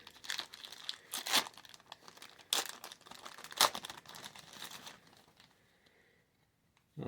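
A 1991 Fleer junk wax baseball card pack is torn open and handled, giving close crinkling and ripping wrapper sounds in several sharp bursts that fade to quiet near the end.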